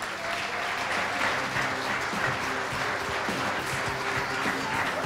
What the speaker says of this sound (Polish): Ogromne brawa, proszę Państwa.